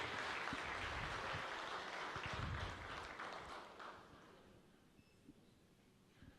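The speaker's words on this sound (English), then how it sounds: "Please clap for him." Audience applause at the opening ceremony of the US Ghana Business Forum welcoming the Minister for Trade and Industry: a steady wash of clapping from a large crowd, gradually thinning and fading out toward the end.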